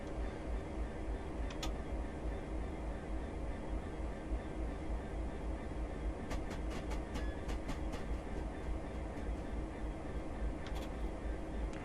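A freight train rolls steadily over points near Rugby Station on the West Coast Main Line in Train Simulator Classic, giving a continuous low rumble with clusters of sharp wheel clicks midway and near the end.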